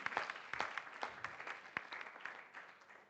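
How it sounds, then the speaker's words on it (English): At a university moot competition during an arbitration week event, an audience claps for the Kenyatta University team. The clapping is faint and sparse, with distinct individual hand claps scattered irregularly across a few seconds. "Let's give a round of applause to Kenyatta University."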